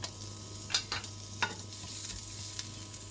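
Ginger pieces sizzling in a little hot oil in a pan for a Chinese-Filipino beef brisket, a soft steady crackle with a few sharper stirring scrapes, close and fairly quiet.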